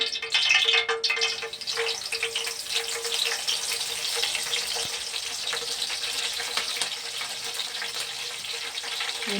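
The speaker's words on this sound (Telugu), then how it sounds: "ఇందులోకండి కొంచెం కరివేపాకు వేస్తాను." Curry leaves dropped into hot oil give off a steady, bright sizzle and hiss that holds evenly throughout, with no voices.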